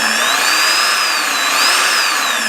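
A drill spins steadily inside an Amtech drill bit sharpener, giving a continuous high-pitched whine whose pitch drifts slightly as the bit is rotated against the grinder, loud and close with no talking.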